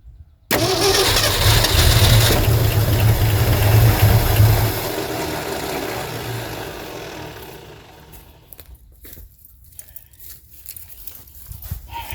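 A 1972 Ford F350 with a big block engine and four-speed cranks loudly for several seconds, with a strong low rumble, then the churning fades into rough, uneven sputtering as the old truck struggles to catch.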